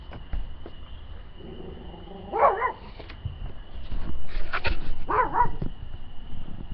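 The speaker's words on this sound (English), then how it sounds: "Probably the loudest thing we'll hear tonight is Jasmine trying to be a guard dog." A dog gives two short barks a few seconds apart, somewhat distant against a quiet background with a faint steady hum.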